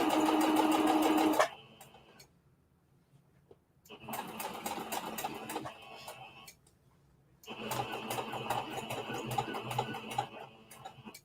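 Sewing machine back stitching a seam on denim jeans being turned into a skirt, sounding in three sustained loud runs of rapid motor-driven stitching separated by brief quiet pauses.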